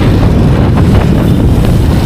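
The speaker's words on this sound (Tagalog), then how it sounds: "Grabe sa hangin." Steady, heavy wind buffeting the microphone, a constant low roar with gusty rumble and no clear voices.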